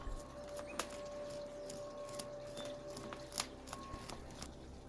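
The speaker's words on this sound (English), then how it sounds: "I will cut off all the overgrown roots so it can fit into the container" Scissors snip through the overgrown roots of a beech bonsai, a quiet series of short, crisp clicks spaced irregularly over a faint background hum, with no talking.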